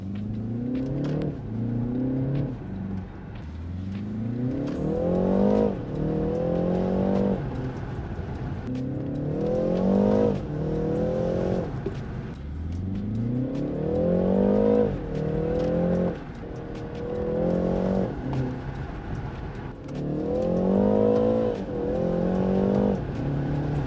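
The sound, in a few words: BMW car driving and accelerating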